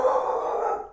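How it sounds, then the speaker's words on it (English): A female dog lets out a single short bark or yelp, close by and moderately loud, lasting under a second and fading quickly. "what are you barking at, girl?"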